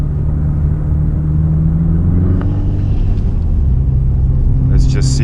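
A Subaru Impreza WRX STI rolls over a rough ice track, its engine giving a steady low rumble throughout with faint rattles and a brief brighter noise near the end, under a voice speaking.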